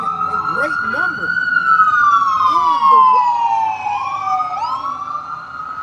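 A loud wailing emergency siren sweeps slowly up and down, shifting to a faster yelp near the end, close by as the vehicle passes, with brief voices underneath at the start.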